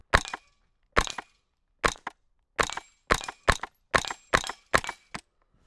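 A suppressed .22 rimfire gun fires about ten muffled, sharp cracks in a fairly regular rapid series, each short, close and clear against near silence.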